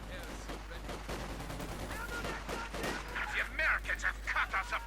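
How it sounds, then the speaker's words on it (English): A .50 caliber machine gun fires in Company of Heroes 2, a World War II strategy game, with short bursts of gunfire amid the battle clamour. A commentator talks over the shooting. "50 caliber opening up."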